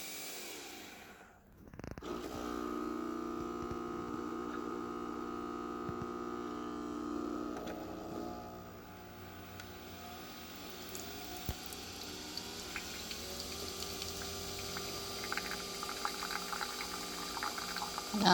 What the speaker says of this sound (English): we're going to take it over to my Nespresso and we're going to brew it up.